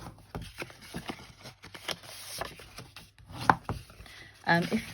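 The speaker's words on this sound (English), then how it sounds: "so fold and burnish on all the score lines" Folding and pressing card along score lines while making a curved Christmas gift box, heard as soft close rubbing and scraping strokes with a few sharper creasing sounds, no talk.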